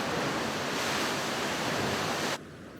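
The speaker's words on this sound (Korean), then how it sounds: "바닷물이 지하 동굴을 통과해 솟구치는 구멍이 있다." Seawater surges up through a coastal blowhole on the New Zealand shore, a loud broad roaring rush that holds steady for over two seconds and then cuts abruptly to a quieter wash.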